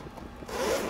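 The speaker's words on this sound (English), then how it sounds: "A little zipper there to keep things." Zipper on a Craftsman Tradestack 21-inch tool bag pulled in one short quick zip, close and clear, over a second of quiet handling.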